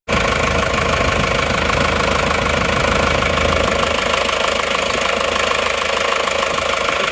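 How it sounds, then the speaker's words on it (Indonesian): A rebuilt Isuzu Panther diesel engine idles warm, a loud, steady, close clatter with a continuous knocking rhythm and no pauses. "Ini setelah kita hidupkan lama, mesin sudah panas."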